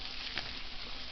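Squash and onions frying in a pan with basil, a steady soft sizzle with a brief louder crackle partway through, no voices.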